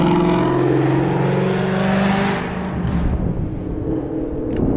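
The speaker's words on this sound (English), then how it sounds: "there are a lot of loud cars" A loud car speeds past close by on the Foothills Parkway in the Great Smoky Mountains, its engine roaring and then fading as it moves away, while wind keeps up a steady background.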